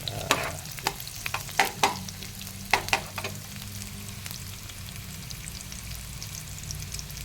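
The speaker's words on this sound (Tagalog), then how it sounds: "Ganyan po, ginigisa talaga." Quiet, steady sizzle of taro leaves being sautéed in a pan, broken by soft scraping and tapping as the leaves are stirred.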